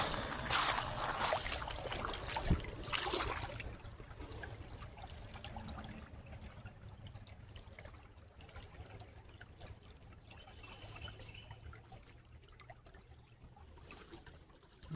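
Water from an artesian well in Prattville, Alabama, pours and trickles steadily over a rock being washed off, loudest in the first few seconds, then settling into a quieter continuous dribble.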